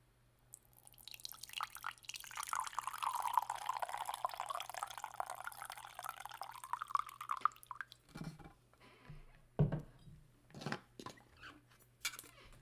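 Coffee poured from a pot into a cup on a desk: a steady, close liquid stream whose pitch rises as the cup fills over several seconds, followed by a few light clinks and knocks.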